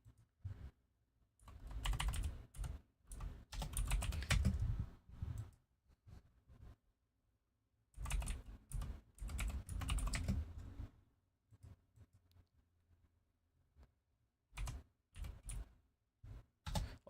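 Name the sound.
typing on a loud mechanical keyboard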